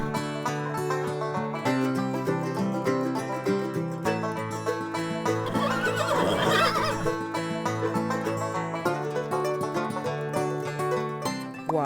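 A brown horse whinnies over steady, cheerful children's music on a farm, its neigh rising briefly near the middle and mostly blended into the tune.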